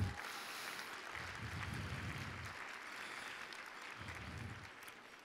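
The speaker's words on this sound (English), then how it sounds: "Let's give them a round of applause for that feat" Steady, soft applause from an audience at a Native American cultural dance performance, a dense wash of clapping heard from some distance, holding evenly throughout.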